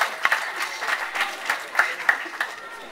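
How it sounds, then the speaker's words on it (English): Wedding guests break into a short round of applause, a dense, close patter of many hands clapping together with a few sharper claps standing out, lasting a few seconds. "it's a big round of applause to them once again"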